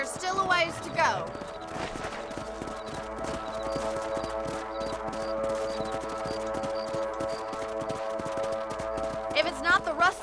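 A horse clip-clops at a steady pace while being ridden in the western game Red Dead Redemption, the hoofbeats running throughout under in-game music and spoken dialogue.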